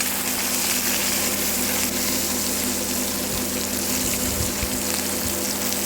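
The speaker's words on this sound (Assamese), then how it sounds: "কেৰাহীত তেল ঢালি দিছোঁ অলপ। মাছ ফ্ৰাই কৰি ল'ম।" Fish frying in hot oil in a wok: a loud, steady, hissing sizzle that fills the whole stretch without letting up, with no voices.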